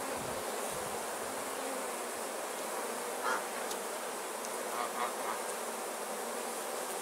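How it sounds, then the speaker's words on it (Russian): A first swarm of honey bees fills the air with a constant, fairly loud droning buzz, many insects humming together with a few passing closer, no voices. "Такая довольно-таки мирная пчела."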